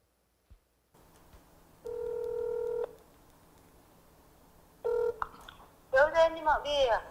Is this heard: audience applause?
no